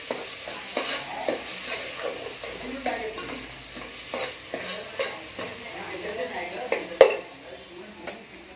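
Masala paste for a sprouted field-bean curry fries in oil in a pan while a spoon stirs it, giving a soft sizzle under repeated scraping and light clinks of metal, with one louder knock near the end.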